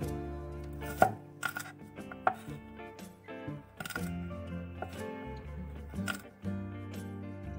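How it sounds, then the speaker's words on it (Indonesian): A knife rough-chops shallots, garlic and candlenuts on a cutting board, giving a series of sharp, close taps at an uneven pace, with a few louder hits among them and no talking. "Potong kasar bawang merah, bawang putih, dan kemiri."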